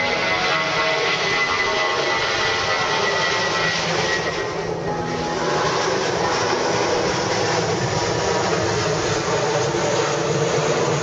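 An airplane passes over a lagoon near an international airport, a loud, broad engine roar sustained throughout with a slight dip midway, heard from a boat at anchor without speech.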